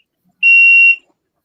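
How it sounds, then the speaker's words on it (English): A refrigerator alarm gives one loud, steady, high electronic beep lasting about half a second, alone against silence. "It's an alarm on the fridge."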